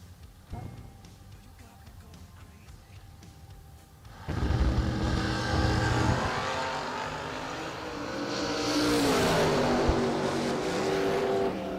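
Drag racing cars, one a Camaro, launch hard down the strip: a roaring engine note swells in suddenly and holds loud and steady, then rises to a second, brighter surge as another car passes close.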